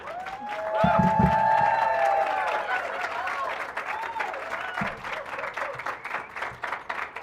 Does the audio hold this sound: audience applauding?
yes